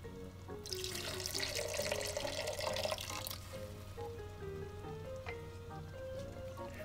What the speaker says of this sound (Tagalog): Kaya magdadagdag pa tayo ng tubig.